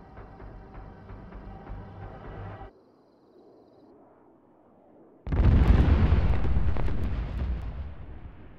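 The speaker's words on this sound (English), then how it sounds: "The town just seemed to explode." A town is hit by cluster bombing: a rumbling low drone gives way after a quiet stretch to a sudden loud blast, followed by sustained roaring, crackling explosions that stay heavy for several seconds.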